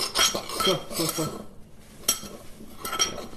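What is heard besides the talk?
stirring BBQ rub spices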